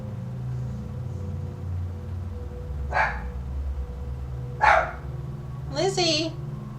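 A dog in the video game Mass Effect Legendary Edition gives three separate barks, spaced a couple of seconds apart, over a steady low engine rumble.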